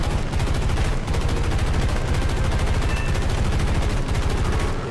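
An F4U-1a Corsair's machine guns hammer out a dense, continuous rapid-fire burst in War Thunder, loud and close with no pauses across the whole stretch.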